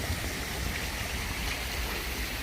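Steady rushing water from a garden waterfall at a botanical cafe, a continuous broadband wash with no talking over it.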